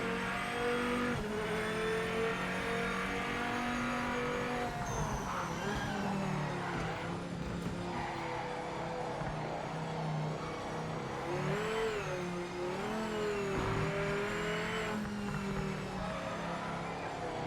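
A race car in a racing sim, PMR, driven hard with the tires abused, its engine revving up and down continuously with tire skids, loud and close throughout the lap.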